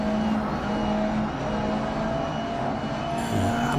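A Ginetta GT3 race car engine drones steadily at Brands Hatch in Grid Legends, a close, sustained tonal hum with a faint shift in pitch near the end and no speech.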